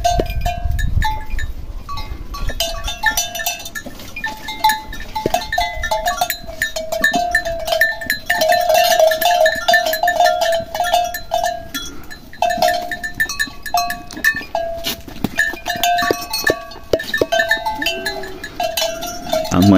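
A herd of goats and other livestock come in from the caatinga scrub to look for supplements. Bells clank and jingle irregularly over near shuffling and scattered bleats, with no talking.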